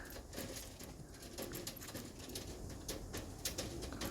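Dutch racing pigeons in a loft give soft, faint coos amid quiet shuffling and light patter, with no one speaking.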